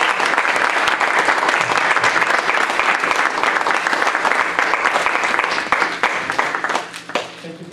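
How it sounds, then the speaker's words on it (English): Audience at a panel event on LGBT international perspectives applauding, a dense sustained round of clapping that thins out toward the end. "Let's have a round of applause."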